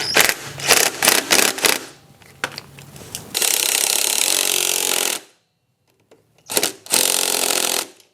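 Bolts on an XR150 motorcycle are tightened with a 10 mm wrench, giving quick bursts of ratcheting clicks, then longer continuous ratchet runs with short pauses between them, close and loud.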